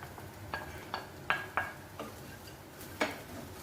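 Roasted dry nuts tipped into a pan of idli breakfast preparation and stirred, giving a handful of sharp scraping clinks and spatula knocks against the metal over a faint sizzle, spaced irregularly and close.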